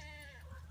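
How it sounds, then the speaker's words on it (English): Goats bleating close by in a neighborhood yard, a short wavering harmonic call that stands clearly above low background rumble. "The goats are coming by."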